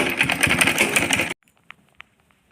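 A sewing machine stitches lace onto the edge of a chunni, running with a steady fast whirring buzz before stopping abruptly, followed by a couple of faint clicks in near silence.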